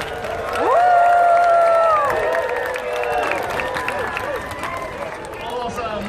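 Audience at the Taronga Zoo seal show in Sydney cheering and clapping, with a loud whooping shout rising over crowd noise and scattered claps continuing under a voice.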